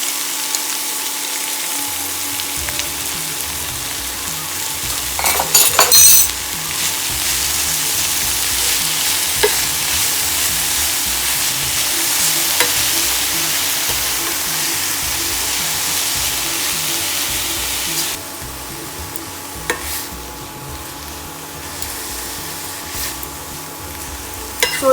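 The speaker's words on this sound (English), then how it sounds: "I'm going to saute methi or fenugreek leaves for a couple of minutes" Fenugreek (methi) leaves sauté in a pan with a steady, loud sizzle and frying crackle for the whole stretch, punctuated by rhythmic scraping stirs and a brief clatter near the start; no one speaks.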